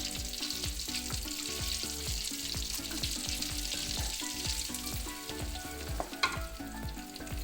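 A small piece of onion fries in melted butter at the start of a vegetable upma, giving a steady, close sizzle with light stirring scrapes and a brief louder clatter near the end, and no voices.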